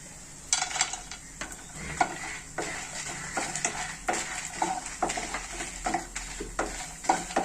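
Coriander seeds and peanuts dry-roast in a pan, with repeated stirring strokes and light rattling over a soft crackle, close and fairly quiet.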